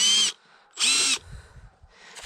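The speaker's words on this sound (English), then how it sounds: "I just started drilling a hole like so" A cordless power drill bores a tap hole into a south-facing maple tree trunk, two high whining bursts of the motor, the second slightly longer, close and loud, with soft handling noises between.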